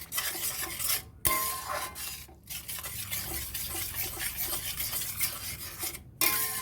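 Mutton is stirred and sautéed in a pot with liquor tea, with steady scraping stir strokes over a continuous sizzle and a couple of brief pauses between strokes.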